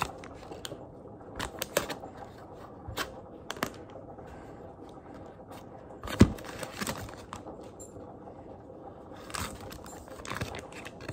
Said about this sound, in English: So real quick, I just want to cut the butter that I need.